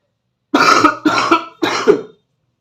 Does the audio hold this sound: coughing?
yes